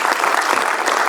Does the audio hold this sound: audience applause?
yes